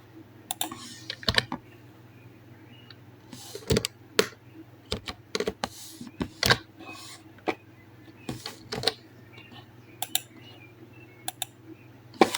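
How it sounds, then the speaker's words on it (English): Intermittent keystrokes on a computer keyboard while text is entered in Photoshop, scattered sharp clicks arriving in small uneven clusters over a quiet low hum. "Then pick my text tool again, then type time,"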